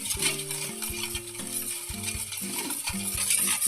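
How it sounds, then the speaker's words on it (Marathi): Sugar is stirred into semolina cake batter in a bowl, giving a continuous scraping swish that sits under loud background music. "साखर विरघळूपर्यंत हे छान असं आपण हलवून घेऊ"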